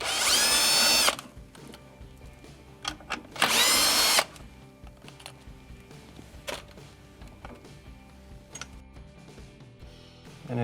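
Power drill backing screws out of the condenser fan bracket on a GE refrigerator: two loud whirring bursts of about a second each near the start, then quiet clicks and handling noise.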